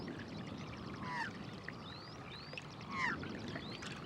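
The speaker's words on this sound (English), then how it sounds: "this part of Australia has been home to many kinds of water birds, including these avocets" Water birds including avocets call in a wetland just west of Melbourne, Australia, with a few short rising chirps and calls scattered over a soft, constant background hiss, fairly faint and distant.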